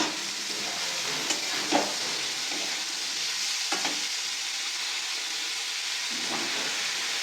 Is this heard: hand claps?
no